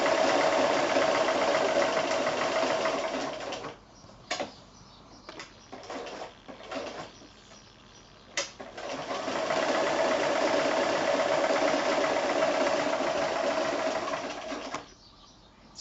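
Sewing machine running steadily while blanket-stitching fused appliqué on a quilting star, with a near, continuous mechanical whir that pauses for several seconds midway as the work is turned, broken by brief clicks, then resumes.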